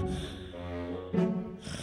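A voice imitates someone snoring in bed in a bedtime story, making a drawn-out rasping breath and then a sharper snorting burst, close and fairly loud.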